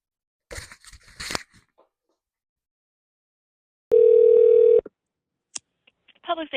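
Steady telephone dial tone sounds alone for about a second as a phone call to public safety dispatch is being placed, preceded by brief handling clicks and rustles and followed by a short beep.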